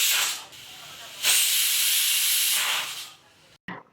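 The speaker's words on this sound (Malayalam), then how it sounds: "കുക്കർ സ്റ്റൗവിൽ വെച്ചതിന് ശേഷം ഒരു 4-5 വിസിൽ വരുന്നവരെ നമുക്കൊന്ന് കുക്ക് ചെയ്യാം" A pressure cooker of tomatoes on the stove hisses steam in loud, sustained bursts, dips briefly, surges again, then fades before a short final puff.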